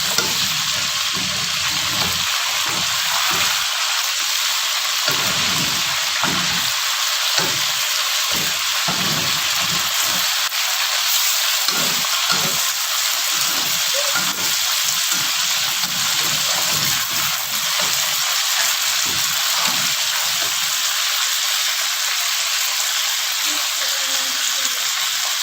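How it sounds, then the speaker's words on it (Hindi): Fish sizzles steadily in oil in a pan, a constant bright crackle that runs throughout, with occasional low knocks and stirring underneath. "और लाइट फ्राई करेंगे। अब हम इसकी साइडें भी चेंज करेंगे।"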